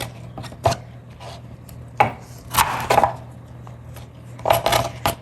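A knife chopping celery on a cutting board for a Khmer beef and pork rib soup, with several crisp, separate cuts spaced irregularly, some close together in small clusters, loud and alone with no talking.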